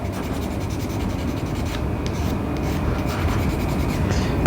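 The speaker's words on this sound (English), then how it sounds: "And from here, you just sand things" Dry rasping strokes of a Godhands acrylic FF board sanding stick worked across a piece of plastic, continuous close scraping that builds slightly in loudness, with no talk.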